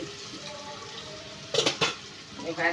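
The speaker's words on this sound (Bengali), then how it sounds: "মিক্সি বাটি ধুয়ে জল দিয়ে" A mixer grinder jar being rinsed with water, heard as a couple of short clattering knocks and splashes followed by running water, close, over a quiet kitchen background.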